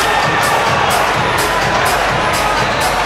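A loud crowd at a Muay Thai fight cheering and shouting continuously, dense and close, with rhythmic rising bursts of chanting.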